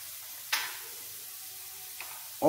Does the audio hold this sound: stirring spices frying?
yes